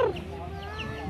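A bird called an alimokon gives a short, clear call on a rural farm, heard briefly and fairly close against a steady low outdoor background.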